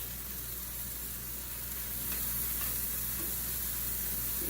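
Mushroom and onion frying in a pan for an omelette, a steady close hiss and crackle of sizzling with faint stirring scrapes, continuous and even throughout, no voices.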